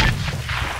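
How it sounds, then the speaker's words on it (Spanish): Grenade launcher explosions in the military game Arma 3 make a loud, continuous low rumble and boom that fills the whole short moment. "Le lanzaron granadas, no sé, marico. Lanzaron GL"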